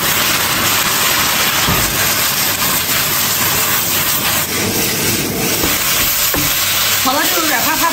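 Cabbage stir-fried with vinegar in a wok over high heat gives a steady, loud sizzle and frying hiss with scraping through the whole stretch, and a voice speaks briefly near the end.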